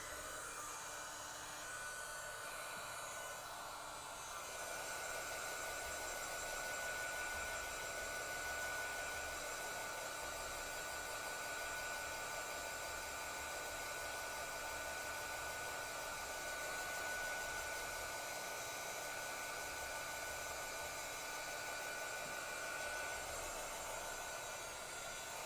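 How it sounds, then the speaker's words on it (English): A heat tool blows hot air over a handmade card, a steady, even whooshing hiss held close to the mic for the whole stretch, with no talking. "I'm going to go ahead and hit it with a little heat."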